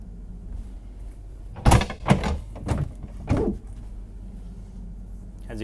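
A heavy secure door on a 145-foot Benetti superyacht is worked open or shut, giving a few solid thuds and clunks close by, with quiet talking around it.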